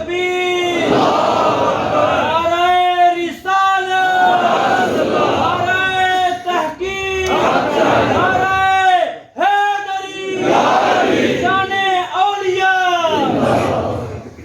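A large crowd at an Islamic religious gathering loudly chants religious slogans in unison, in repeated forceful bursts with short pauses between them.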